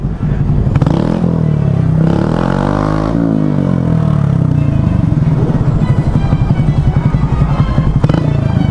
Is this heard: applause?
no